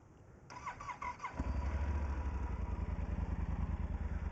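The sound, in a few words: motorcycle with stock exhaust pipe running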